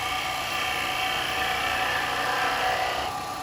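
A spindle gouge cuts wood on a spinning lathe, giving a steady, loud, continuous whirring hiss with a shrill edge that holds evenly throughout and eases slightly near the end, with no talking.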